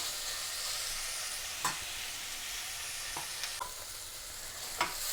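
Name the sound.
onions sautéing in oil for potato kurma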